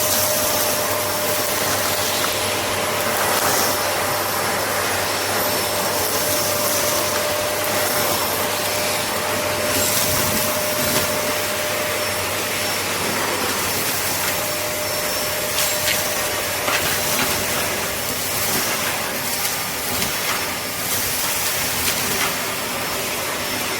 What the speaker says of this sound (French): va aspirer surtout tous les débris qu'il y a dans mon atelier